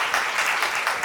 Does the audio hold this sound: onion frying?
no